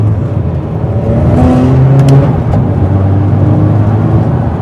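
A Dallara Stradale sports car drives on a foggy road with a loud, steady engine drone and whir up close, a brief rise in pitch in the middle, and no talking.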